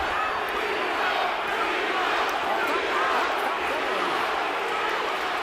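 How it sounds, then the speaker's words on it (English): A large boxing crowd keeps up a steady, dense roar of voices and chanting from all around the ring, continuous and loud for the whole stretch. "Crowd chanting, B-Hop."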